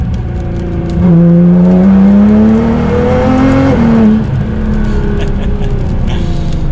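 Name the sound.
sports car rolling launch in third gear, revving above 3,000 RPM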